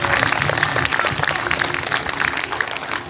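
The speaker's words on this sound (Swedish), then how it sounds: "De är värda en stor applåd, tycker jag i alla fall." Audience applause at the inauguration of a new playground in a lakeside park in Askersund, a steady, dense clapping from a crowd lasting the whole moment, fairly loud with no voices over it.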